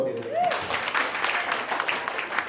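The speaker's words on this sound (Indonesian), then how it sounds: "Tepuk tangan untuk Our Citrus." Audience clapping for a business presentation fills the room as steady applause. It rises briefly after a short tone and carries on without talk.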